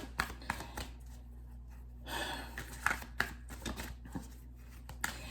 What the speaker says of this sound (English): let me shuffle and see what cards are gonna pop up